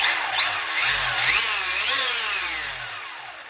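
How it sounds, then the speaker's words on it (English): An Arrma Infraction 1/8 4x4 3S BLX RC car with high-speed gearing, its brushless motor revving on a bench: a loud, close, whining rise and fall in pitch for a few seconds with no talk. "just kind of give this just a quick little rev up on the bench"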